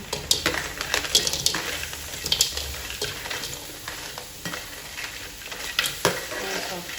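Blue swimmer crab stir-fried in a hot pan with salt, loud sizzling broken by repeated clattering scrapes of a spatula against the pan in an uneven rhythm.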